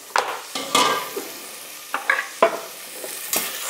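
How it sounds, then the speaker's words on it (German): Onions sizzling and spitting in a hot frying pan while a Savoy cabbage sauce is being made, with several sharp bursts of crackle and stirring scrapes over a steady frying hiss, close and fairly loud, no talk. "weil das brutzelt schon"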